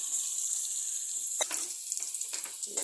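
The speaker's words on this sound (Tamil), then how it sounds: "தேவையான அளவு தண்ணி ஊற்றிக்கோங்க." Water splashes and trickles into a hot pan of upma vegetables, including eggplant, with a steady hiss of sizzling and a few sharper pouring bursts close by.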